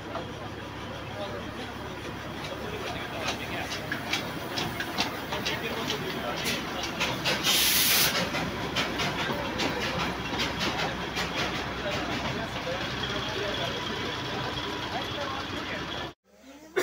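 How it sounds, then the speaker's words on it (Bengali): A steam joy ride train with a Vistadome coach on the Darjeeling line pulls into platform 1, with a steady rumble and rhythmic wheel clatter, a brief loud hiss midway, and voices talking on the platform throughout. "ট্রেনটি ঢুকছে"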